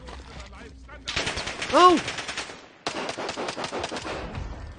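Rapid machine gun bursts from a video game, loud and close, firing in dense repeated volleys with a short pause midway, while a player shouts briefly over the gunfire.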